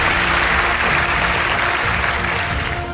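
A large audience at a student merit day event in Ernakulam claps in a dense, loud, continuous roar of applause that holds steady throughout.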